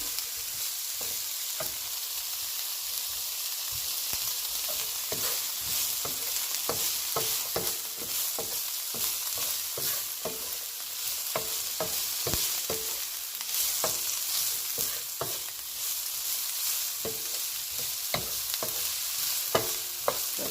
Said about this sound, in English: saute in your seasoning